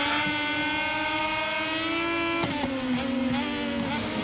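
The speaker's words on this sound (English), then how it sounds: "Revving the you-know-whats off of this Triumph" A Triumph race motorcycle engine in MotoGP 22 drones steadily at high revs, its harmonic whine holding level and then dipping briefly as it shifts, loud and continuous without speech.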